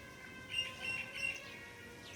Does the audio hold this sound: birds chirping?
yes